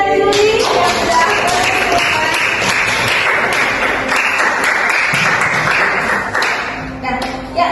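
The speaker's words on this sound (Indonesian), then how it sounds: "Ini tepuk tangan buat Yuli yang sudah" A class of students claps for a classmate with loud, brisk, overlapping applause that carries on steadily for several seconds and then thins out, with voices mixed in.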